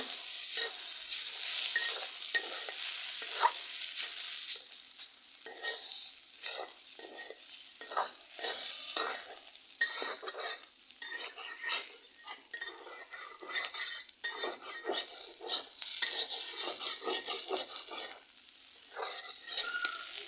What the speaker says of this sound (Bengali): আমি ডিমটা দেওয়ার পরে যে ভালোভাবে নাড়াচাড়া দিব, কারণ সব আলুর সাথে যেন মিশে যায়।